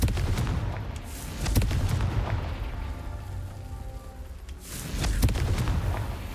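A Confringo blasting-spell explosion from the video game Hogwarts Legacy goes off in loud, broadband booms. One burst lands near the start and another hits heavily near the end, over a rumbling low background.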